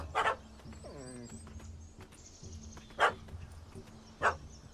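A puppy barks in The Witcher 3: Hearts of Stone, giving three short, sharp yaps spread a second or more apart over a low game ambience with faint creaking sounds between them.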